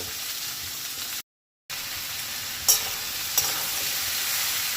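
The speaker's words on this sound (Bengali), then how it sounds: "তো আগে আলু আর কুমড়োটা একটু ভেজে নিই" Potato and pumpkin pieces frying in a pan, giving a steady bright sizzle with stirring that pauses briefly and then resumes. Two small scraping clicks come from utensils.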